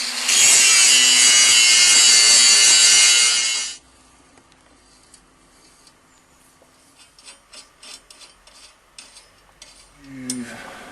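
Coarse 60-grit abrasive grinds a forged sword blade in one loud, continuous rasping burst of nearly four seconds, then stops, leaving faint scattered taps and handling noises.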